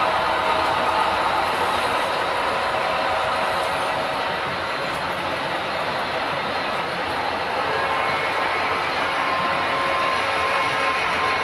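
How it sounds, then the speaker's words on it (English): A model railroad train on the Granite Gorge and Northern layout starts up and runs, a steady continuous rolling rumble with faint clicking, moderately loud and unbroken throughout, with no talk. "Alright, we're going to start the 5th train up."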